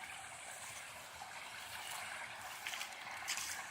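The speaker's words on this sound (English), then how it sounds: "There's the waterfall you keep hearing." A waterfall on a farm, a faint, steady rushing hiss of falling water heard from some distance, alone without talk.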